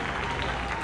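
Brief moment of applause from a jazz concert audience for the band's musicians, a dense wash of clapping under a faint announcing voice.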